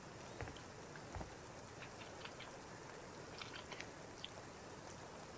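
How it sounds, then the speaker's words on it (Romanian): Rain in the video game Rust, a faint steady hiss of rainfall with scattered small drop taps throughout, alone with no talk. "Ploaia asta nu se mai oprește?"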